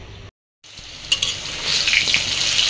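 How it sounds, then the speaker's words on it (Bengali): Eggplant frying in a pan, a sizzle that cuts out briefly near the start, then returns and swells into a steady hiss. "বেগুন ভাজি হচ্ছে"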